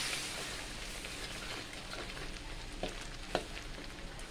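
Steady crackling sizzle of coconut cream simmering in a hot pan over high heat, with a few sharper pops breaking through the continuous bubbling hiss.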